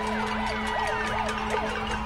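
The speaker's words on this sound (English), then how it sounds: "Right now an ambulance is actually coming by" An ambulance siren wails in repeated rising and falling sweeps as it passes through a highway protest in Puerto Rico, loud and continuous over a steady low drone and crowd background.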